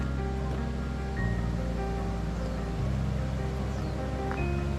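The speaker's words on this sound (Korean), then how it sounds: "계곡 물소리가 은은하게 들려오고" A mountain valley stream in Jirisan's Georim valley rushes steadily, a continuous broad wash of flowing water with a faint hum underneath and no voices.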